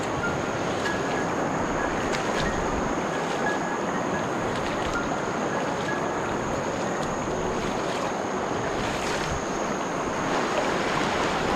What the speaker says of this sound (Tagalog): ito yung ilog guys dito sa gilid